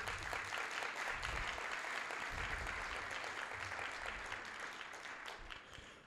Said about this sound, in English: Please give Ms. York another round of applause.